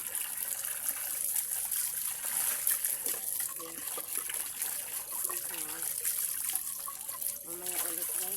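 Water trickles and splashes steadily from a tap, with faint clinks of dishes and a quiet voice talking in the background.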